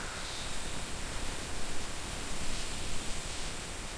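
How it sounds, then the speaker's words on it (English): Rain falls steadily on leaves outdoors, a soft, even broadband hiss and patter with gentle swells in loudness, continuous throughout with no voices. "You can hear the rain hitting the leaves outside, a soft rustling sound."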